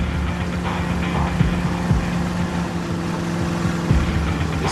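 Low, steady throb of a ship's two engines running slow astern, with a constant hum and a few soft knocks, no voices.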